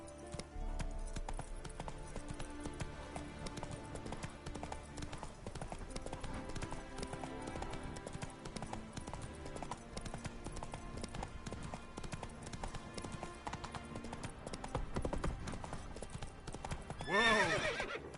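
Roach the horse from The Witcher 3 gallops with steady rhythmic hoofbeats under game music, then neighs loudly near the end.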